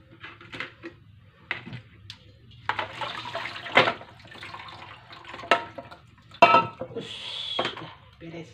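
Cooked kwetiau flat rice noodles being drained, with water splashing and metal utensils and pans clattering in sporadic bursts, while someone talks over the kitchen sounds.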